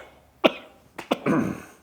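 A person gives a few short, close coughs with throat clearing, separated by brief quiet gaps.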